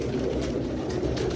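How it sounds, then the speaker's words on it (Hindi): Rare Sialkoti breeder pigeons coo together in a loft, giving a steady, close, low murmuring coo that runs continuously without pause, with no voices. "ओरिजिनल हालत दे कबूतर ने"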